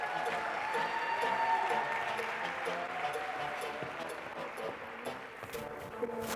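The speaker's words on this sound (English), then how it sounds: "Monica, give her a big round of applause." A studio audience applauds a guest coming out for a talk-show interview, steady broad clapping filling the whole stretch with music playing underneath.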